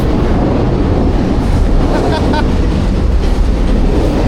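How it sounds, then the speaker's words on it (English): A train rolls along the tracks directly overhead, a loud, continuous rumble with rhythmic rail clatter and a few brief metallic squeals, heard from close below the line. "I love trains, and I've never been underneath one before. Well, it's going up on the tracks above."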